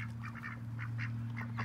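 Ducks kept at a backyard flock quack repeatedly at night, several short nasal calls in irregular bursts over a steady low hum, moderately close and fairly faint.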